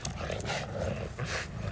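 Bully-breed dogs tugging on a toy, with a low continuous growl and rough panting carrying steadily throughout, close and moderately loud.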